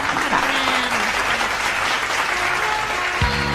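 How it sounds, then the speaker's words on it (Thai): Schoolchildren in a Thai language lesson applaud together, with brisk, steady clapping close by and a faint voice underneath. "ปรบมือให้คนเก่งก่อน"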